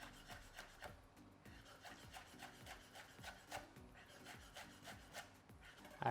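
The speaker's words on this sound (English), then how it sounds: "Chop some parsley." A knife chops parsley on a wooden board in a steady run of quick, soft, close taps, each one followed by a faint scrape.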